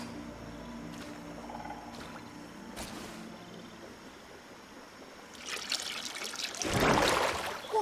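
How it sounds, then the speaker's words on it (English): Potion poured onto a stone altar in the game Greedfall: a quiet ambient scene breaks into a rising splashing trickle of liquid that swells loudly near the end before tapering off. "That must be where we need to pour the potion."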